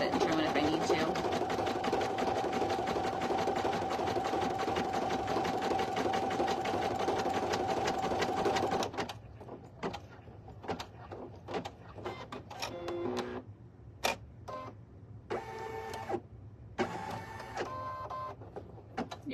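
A single needle embroidery machine stitches a design onto a premade item, running steadily and loudly before stopping. Short clicks and mechanical clatter follow as it pauses and restarts, with a voice speaking briefly.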